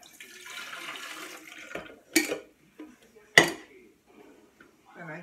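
Leftover Starbucks coffee poured into a cup for homemade iced coffee, a short liquid pour followed by clinks of glass and utensils, close up, with a voice speaking nearby.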